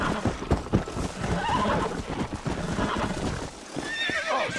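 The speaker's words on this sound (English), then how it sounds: "Cavalo." A horse in Red Dead Redemption gives a loud, shrill whinny over a run of clip-clopping hoofbeats, with a brief voice mixed in.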